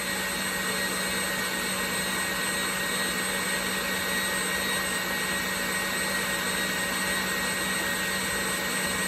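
Stand mixer whipping French meringue at high speed, a loud steady whirring drone with a constant hum that holds unbroken throughout.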